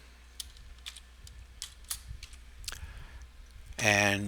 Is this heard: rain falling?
no